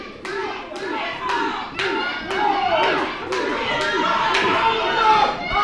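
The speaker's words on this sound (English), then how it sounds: "Lil T's whole tag team cheering him on" A crowd of children at a VCA youth wrestling show whoops and shouts for their tag-team wrestler, with sharp claps and hand slaps breaking through the constant, loud, close cheering.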